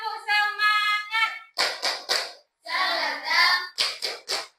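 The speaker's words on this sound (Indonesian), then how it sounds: "Tepuk semangat" A school classroom of pupils performs a rhythmic spirit clap, with short bursts of clapping in a set pattern mixed with children's voices chanting along, separated by brief pauses.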